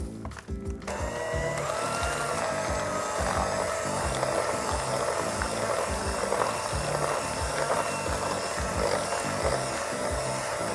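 Vegan mascarpone cream for tiramisu is whipped by an electric mixer that starts abruptly and then runs in a continuous mechanical whir with a rhythmic pulsing, close and loud, without talking.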